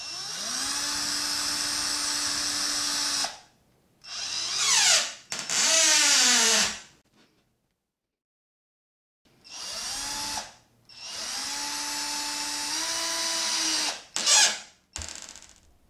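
A power drill drives a small screw into wood to fix a coil in place on a homemade acrylic sheet bender. Several close, loud whirring bursts start and stop, with pauses between runs and no talking.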